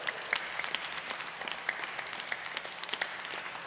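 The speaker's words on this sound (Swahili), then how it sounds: "Situpigie fathers makofi." A church congregation at a PCEA Kikuyu-language service applauds the fathers, producing a short, steady burst of many hands clapping together in a large room, fairly even in loudness from start to finish.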